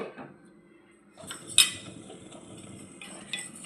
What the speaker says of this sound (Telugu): పూర్తిగా అంతా కలిసేలా ఒకసారి కలుపుతున్నాను